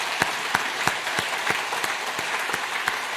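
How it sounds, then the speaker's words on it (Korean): A church congregation at a New Year's Eve service applauds the ordained deacons, giving full, even clapping throughout, with light rhythmic accents from a few hands. "다시 한번 큰 박수 부탁합니다"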